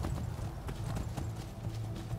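Horse hooves clip-clop in the video game Skyrim, a quick steady trotting rhythm of soft thuds running continuously, faint and low under a murky background.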